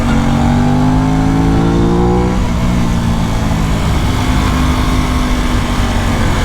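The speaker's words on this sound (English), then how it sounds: "It's incredible how fast Don's going on his MT-10." A sport motorcycle engine roars steadily at high speed on a bumpy canyon road, its pitch sweeping upward then holding, with constant wind and road rush throughout.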